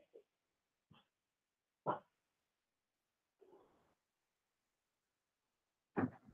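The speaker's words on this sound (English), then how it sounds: "don't mind my dog if you hear my dog in the background" A pet dog in a quiet room gives a few short, scattered barks and yips spaced seconds apart, with near silence between them.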